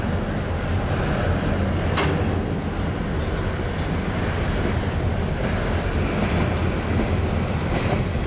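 A CN freight train moves slowly along the Waterloo Sub toward the yard, a steady broad rumble of cars rolling past nearby with a faint metallic squeal, continuous for the whole stretch.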